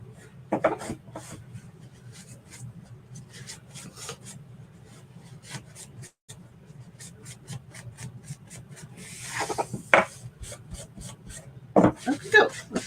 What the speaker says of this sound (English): I'm just trying to get some of that